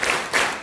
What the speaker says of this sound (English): Let's give that 3 claps